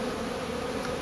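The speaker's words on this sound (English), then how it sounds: "we have a pretty different and interesting swarm here" A swarm of bees gathered in a tree, a dense, steady buzzing hum that fills the air evenly with no pauses, close and continuous.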